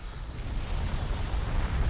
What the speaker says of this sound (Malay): Batu yang lebur di dalam bumi akan terdesak naik ke permukaan bumi melalui letupan gunung berapi.